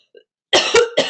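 A faint throat sound, then three quick, harsh coughs close to the listener, loud and clipped.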